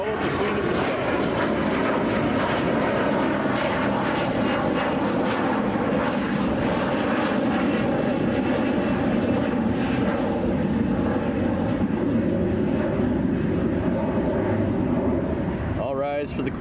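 A Lufthansa Boeing 747 departs Chicago O'Hare, its loud, steady jet roar filling the air continuously from start to finish, close and sustained, with a faint voice now and then underneath.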